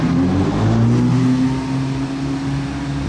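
A Porsche GT3 RS engine runs loud and close with a steady droning tone that swells slightly, then eases back near the end, with no talking over it.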